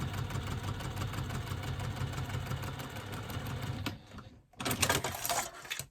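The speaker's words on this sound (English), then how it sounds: "Then I'm going to stitch across the bottom of the exterior fabric." Sewing machine stitching across the bottom of exterior fabric, a steady mechanical whirring hum for several seconds that stops briefly, then resumes in a louder burst.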